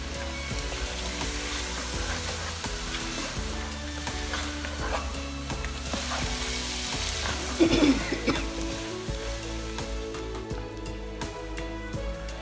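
Ketchup and soy sauce stirred into a chicken curry frying in a pan, giving a continuous loud sizzle with repeated scraping strokes of a spoon throughout.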